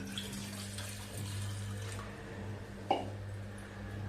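Water pours steadily from a tap into a vessel, a soft continuous splashing with a brief clink partway through, fairly quiet, measuring water for ragi papad dough.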